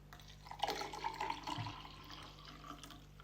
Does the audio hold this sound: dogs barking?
no